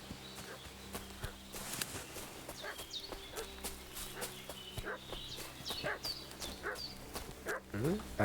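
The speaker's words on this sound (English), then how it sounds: "I hear a dog." In the medieval video game Kingdom Come: Deliverance II, a dog barks and whimpers at a middle distance over a stretch of seconds, mixed with clopping hooves and footsteps in an outdoor village scene.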